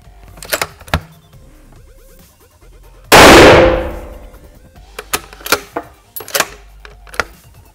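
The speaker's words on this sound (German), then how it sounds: "wir schießen sie jetzt einmal ohne Schalldämpfer, damit man mal einen Vergleichswert hat" A single loud, sharp unsuppressed rifle shot fired at a 50-metre target cracks out and rings briefly, surrounded by quieter clicks and mechanical handling noises before and after.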